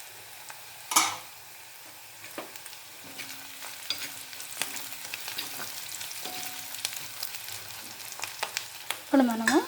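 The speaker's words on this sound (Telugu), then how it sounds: "ఇప్పుడు మనము మూత పెట్టి కొంచెం సేపు ఉడకనిద్దామండి ఆనియన్ని." Onions cook in a covered pan for gongura chicken, giving a soft, steady sizzle and frying crackle with occasional light clinks of the lid or utensils. The sound stays quiet and close, with a louder clatter near the end.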